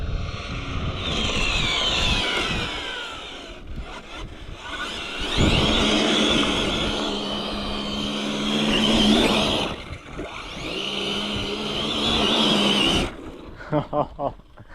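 An Arrma Infraction 8S RC car on a 31-tooth pinion tears past at full throttle, its high, whining electric motor rising and falling in long loud passes, with a voice talking over it and a few short clicks at the end.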